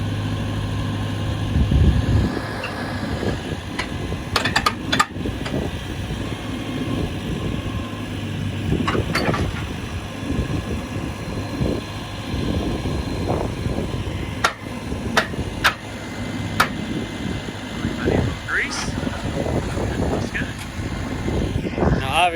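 An Allis-Chalmers 7050 tractor runs a test with a newly acquired Allis 1300 cultivator, a loud low engine rumble throughout with intermittent metallic clanks and knocks, and people talking over it at times.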